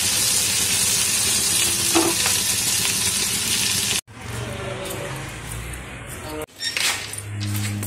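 A spice mix sizzles and fries in a pan while a spoon stirs and scrapes through it for about four seconds, then abrupt cuts to quieter clattering and rustling.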